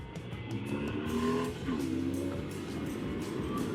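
A BMW F800GS motorcycle engine pulls hard and climbs steadily in pitch toward freeway speed, with the revs rising and shifting in a continuous, moderately loud drone under rushing wind.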